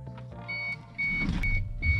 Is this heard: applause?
no